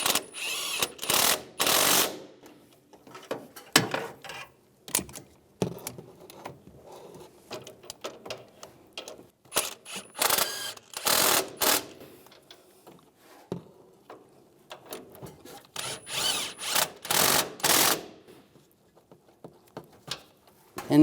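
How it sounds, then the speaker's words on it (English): A ratchet snugs the upper shock mount bolts on a 2007-2013 Chevy Silverado 1500 front shock, sounding as close bursts of rapid clicking strokes separated by pauses and quieter handling noises, with no talking. "Now I'm going to tighten the upper shock mount bolts. Snug those down first."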